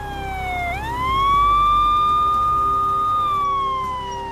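A police car siren wails up and holds a long, loud, steady tone, then begins to fade.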